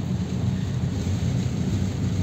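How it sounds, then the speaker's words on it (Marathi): Steady, dense rain roars without a break, a broadband wash heavy in the low end, close and constant throughout. "आता भरपूर नुसतं पाऊसच चालू आहे"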